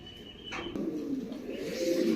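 A pigeon coos softly in low, throaty murmurs amid faint background noise and a brief rustle.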